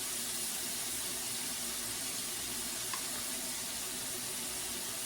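Ground meat browns in a pan for an Italian mostaccioli dish, giving a continuous soft, even sizzle with no pauses, fairly quiet and close.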